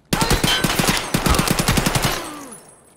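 Video game gunfire rings out as one close, loud burst of rapid automatic shots lasting about two seconds, then an echoing tail fades away.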